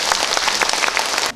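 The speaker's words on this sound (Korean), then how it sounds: "지금까지 열정적으로 강의해주신 우리 주식회사 미래코리아 이재원 대표님에게 큰 박수 부탁드리겠습니다" A burst of dense clapping from a crowd at a business seminar, steady and fairly loud, cutting off abruptly at the end.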